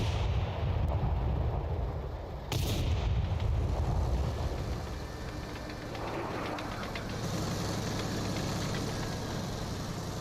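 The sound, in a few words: artillery shell flying in a video game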